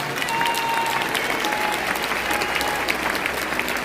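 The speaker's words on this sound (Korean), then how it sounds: "인사하실 때 큰 박수로 축하해 주십시오." Congregation applauding at a pastoral ordination ceremony in a church, dense steady clapping from a large crowd filling the space for the whole stretch, loud and sustained without a break.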